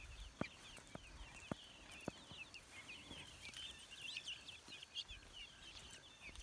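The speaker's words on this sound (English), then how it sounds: "Guinea hens, or they call them Guinea fowls, do. They run around in a pack. And they have a very loud chirp." A pack of guinea fowl on a rainy eastern Kentucky farm trade busy, scratchy chirping calls, many overlapping at moderate distance, with sharp knocks and rustles nearby.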